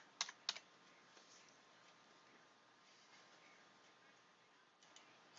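Typing a web address on a computer keyboard: a few close, crisp key clicks at the start and again near the end, quiet and alone over faint room hiss.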